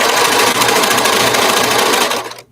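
A sewing machine stitching fabric runs in a fast, steady mechanical whir for about two seconds, loud and close, then quickly winds down and stops.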